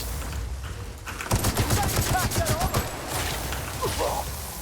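An assault rifle fires in The Outer Worlds, a rapid burst of shots in a steady rattling rhythm lasting a couple of seconds, fairly loud, followed by fading game effects.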